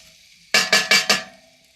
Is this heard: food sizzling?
yes